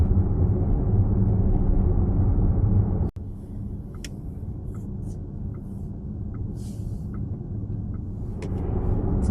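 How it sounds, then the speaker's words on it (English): Inside a VW ID Buzz electric van on the move, a steady low rumble of tyre and road noise runs throughout, briefly dropping out near the start before resuming, with faint scattered ticks above it and no engine sound. "as you'd expect from an electric vehicle, it's very quiet, a little bit of tyre noise."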